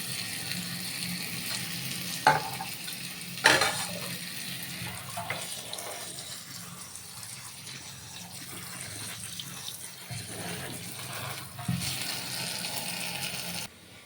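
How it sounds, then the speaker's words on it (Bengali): Boiled cabbage water drains through a basket and the cabbage is rinsed with cold water, a steady splashing rush with a few sharp clatters of the basket. "ঝুড়ির মধ্যে এবারে বাঁধাকপির জলটা ঝারিয়ে নেবো একটু ঠান্ডা জল দিয়ে ধুয়ে নেবো আবার"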